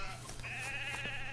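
A sheep in the video game CHKN gives a short, close bleat, a wavering nasal cry heard alone.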